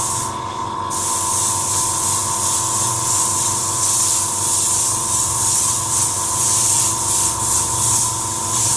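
An airbrush sprays paint onto a helmet in a steady, loud, continuous hiss that runs almost without a break, with a short pause at the start; no voices.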